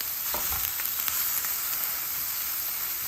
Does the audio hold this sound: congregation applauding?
no